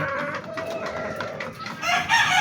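Several game-farm hens cluck and murmur close by, with a rooster-like call rising near the end.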